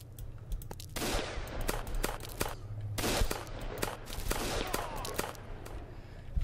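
Pistol gunfire in the video game WasteWater pops in quick repeated shots, sharp and loud, with rapid bursts over a constant low game hum and no talking.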